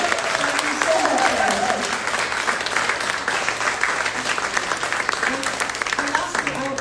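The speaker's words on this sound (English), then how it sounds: "can we just give a big round of applause to Randy for our sound tonight" Audience at a women's storytelling tour event in Portland, Oregon gives a big round of applause for the night's sound engineer: dense, steady clapping sustained for several seconds, with faint voices mixed in.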